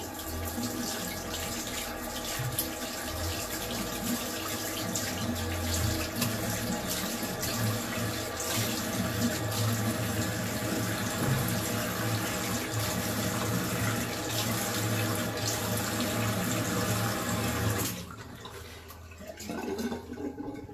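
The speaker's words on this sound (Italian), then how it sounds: "Mi sciacquo la faccia con l'acqua freddissima" Cold tap water runs steadily into a sink while someone rinses their face, a continuous rushing splash that stops near the end.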